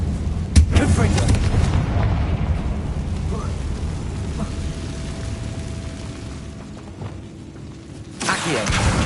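Confringo blasting curse from Hogwarts Legacy goes off as a sharp, heavy boom early on, followed by rumbling game ambience, softer mechanical clunks and another burst of noise near the end.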